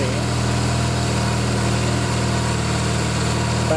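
Triumph Bonneville motorcycle engine idling nearby, a loud, steady, even mechanical drone with a constant low throb and no revving, alone without talk.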